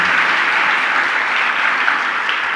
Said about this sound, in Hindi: मान लो, बजा लो अपने लिए ताली, जम के तो बजाओ